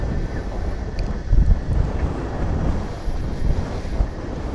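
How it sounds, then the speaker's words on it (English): Gusting wind buffets a microphone outdoors at DFW Airport, a loud, steady low rumble that swells and eases over a few seconds with no speech. "As the wind picks up."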